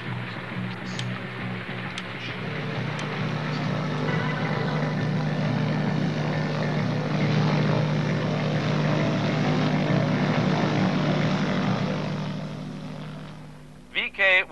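A propeller airplane flying into a bad storm drones steadily, a loud low engine hum with a constant pitch that lasts throughout, then gives way to a few short bursts at the very end.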